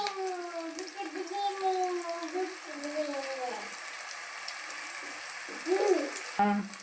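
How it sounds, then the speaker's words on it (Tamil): Small onions sauté in a pan for kara kuzhambu, giving a steady soft sizzle that runs under voices talking throughout. "வதங்கிடுச்சா நல்லா கொஞ்ச நேரம் வதங்கணும்"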